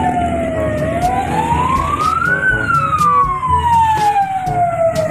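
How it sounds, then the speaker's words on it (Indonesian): A loud ambulance siren wails continuously, its pitch sweeping slowly up and down, with traffic rumble underneath. "Di sini ada mobil ambulans."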